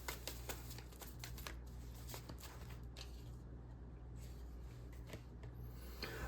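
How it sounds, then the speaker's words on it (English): A deck of moon tarot cards is shuffled, making soft, steady riffling and sliding with small flicks, faint and close in a quiet room. "Pull some of these moon cards out here."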